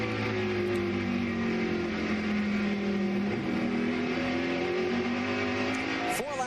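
NASCAR Winston Cup stock cars roar around Martinsville Speedway during the Old Dominion 500, a steady, loud engine drone with shifting pitch as cars pass, ending with a sharp rising rev.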